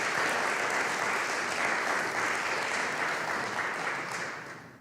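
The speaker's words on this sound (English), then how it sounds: "So let's give him a round of applause." Conference audience in a hall applauding, a dense wash of clapping that holds steady and then gradually fades out toward the end.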